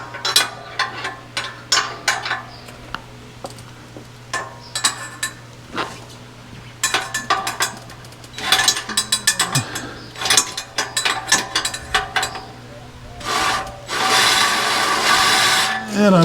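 A hand tool ratchets in repeated short bursts of clicks and metallic clinks while tightening an axle dump exhaust fitting under a truck. A steady low hum runs underneath, and a longer rasping stretch comes near the end.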